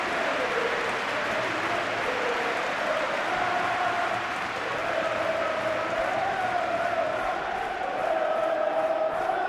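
A stadium crowd roars and cheers during a Champions League match between Atlético de Madrid and Inter Milan in the PES 21 football video game, a loud sustained wash of massed voices with a rising chant.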